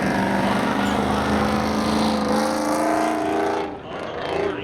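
Race cars roaring at Seekonk Speedway spectator drags, a 1986 Chevy Camaro and a 1988 Nissan, with loud sustained engine drone that rises and then fades as they pass.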